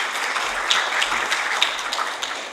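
A conference audience applauds a speaker with steady, dense clapping that fills the room at a fairly loud, even level throughout.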